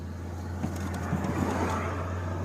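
A car with a ZMZ 406 engine drones steadily on a race track, a low, even engine hum heard from inside with faint road and wind noise and no distinct rev rise.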